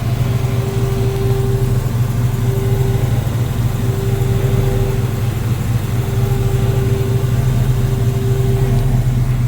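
A 1966 Chevy C10 pickup truck engine running at a steady idle, a deep continuous rumble with a faint periodic tonal hum, close and loud with no talking.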